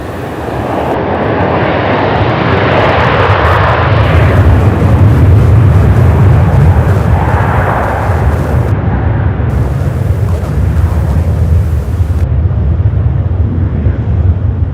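A jet airplane taking off at Charlotte Douglas airport, a loud sustained engine roar that swells and then slowly recedes into the distance.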